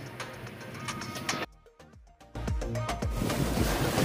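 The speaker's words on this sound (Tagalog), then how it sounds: "At medyo lumakas yung alon" Waves wash and surge on water off Talim Island with wind rumbling across the microphone, a brief quiet lull midway before the churning resumes, no talking.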